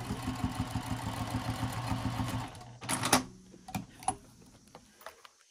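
A sewing machine stitches a seam along the edge of vinyl, a fast steady mechanical whirr and rhythmic clatter for about three seconds, then it stops and a few lighter clicks and handling sounds follow, close up.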